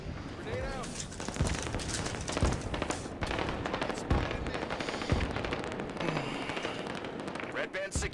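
Rapid automatic gunfire and grenade blasts from a Halo 5 multiplayer match rattle continuously and loudly, with dense bursts of shots and heavier booms throughout.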